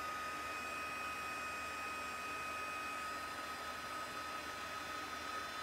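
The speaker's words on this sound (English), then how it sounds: "I'm going to bring in my heat gun." A heat gun blows hot air to melt embossing powder on a stamped paper craft project, a steady, continuous whooshing roar with a faint whine, constant and close throughout, with no talking.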